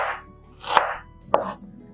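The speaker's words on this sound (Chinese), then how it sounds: "准备一块生姜，给它切成姜片" A knife chops fresh ginger into slices on a board, two distinct crisp cuts a moment apart, close and clear in a quiet kitchen.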